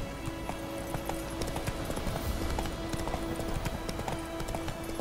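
A horse gallops in The Witcher III game, its hooves beating a steady, fast clip-clop close by over a constant wash of outdoor ambience, with no voices.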